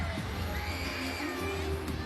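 Home crowd at a college gymnastics meet cheering and whooping in a large arena, a dense, steady roar of many voices with a few higher shouts rising above it.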